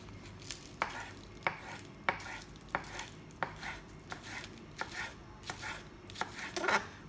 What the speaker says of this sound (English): I'm going to very finely slice some spring onions.